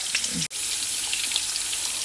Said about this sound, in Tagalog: Binabanlawan ko na siya ng tubig.